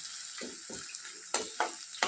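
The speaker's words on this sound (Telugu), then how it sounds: "దాన్ని మనం ఇప్పుడు ఈ తాలింపులో వేసుకొని బాగా వేయించుకోవాలి" A pounded paste of cumin, garlic and ginger fries in a hot oil tempering, giving a steady close sizzle broken by short stirring scrapes about every half second, with no voices.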